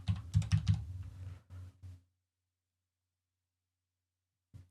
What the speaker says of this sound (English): So I will allow and type the code in.